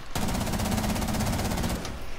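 Rapid automatic gunfire in a video game, a fast regular burst of shots for nearly two seconds, loud and close with no talking.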